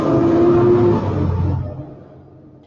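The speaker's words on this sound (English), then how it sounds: "Sounds like a big truck in the neighborhood." A large truck drives through a residential neighborhood, its loud low engine rumble and drone fading out as it moves away over a few seconds, with no one talking.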